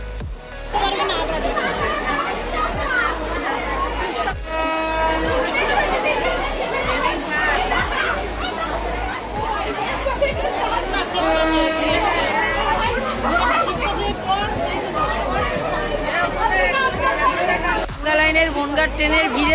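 Dense crowd chatter fills a busy Bangaon local train platform, with many voices overlapping close by, footsteps and commotion, and a steady loud babble throughout.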